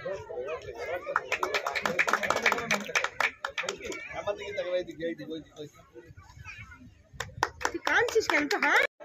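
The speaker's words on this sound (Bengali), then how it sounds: "একবার করতালি দিয়ে অভিবাদন" A crowd at a football tournament in Dadpur claps in bursts of applause, rising and fading, with voices speaking between and over the clapping.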